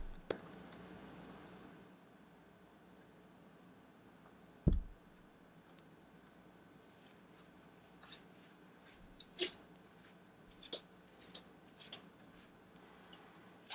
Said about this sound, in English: the next thing we need to do is remove these screws